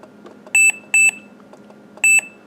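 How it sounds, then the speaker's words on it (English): A HoneyGuaridan A40 4.5-litre automatic pet feeder beeps as its clock is set: three short, loud, high electronic beeps, two close together and a third after a pause, with no voices. "The beeping is the worst part about this."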